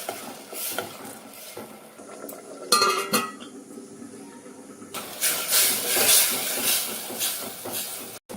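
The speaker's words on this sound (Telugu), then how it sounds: "మొత్తం బాగా కలుపుకోవాలి." Ginger garlic paste and tomato paste being stirred together in a pan, giving scraping, clinking utensil-on-metal sounds and a steady hissing sizzle that grows louder near the end, with no talking.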